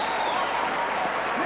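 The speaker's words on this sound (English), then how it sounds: "Oh, the crowd love that." A packed arena crowd applauding and cheering after a volleyball rally, a dense, steady roar of clapping throughout the short burst.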